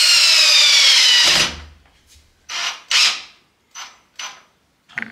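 A Lux A-BS-20 cordless impact drill drives a screw with a loud, close whir for over a second. Several short, sharp bursts of the motor follow, separated by silence.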